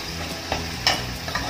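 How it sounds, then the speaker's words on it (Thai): Pork cooked with shrimp paste simmers down in its liquid, a close bubbling sizzle with a few soft clicks of a utensil against the pan. "เราก็จะเคี่ยวอย่างนี้ไปเรื่อยๆนะคะจนกว่าน้ำจะงวด"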